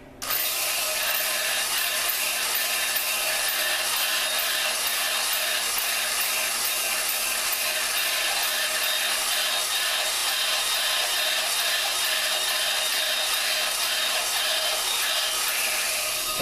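Hand lapping of engine valves on a Dodge 4.7 engine gives a continuous close gritty rubbing and scraping that holds steady and loud for over fifteen seconds.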